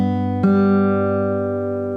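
Acoustic guitar fingerpicking a chord from a song with thumb and fingers, a single plucked note followed by a sharper second pluck that rings out clearly and fades slowly.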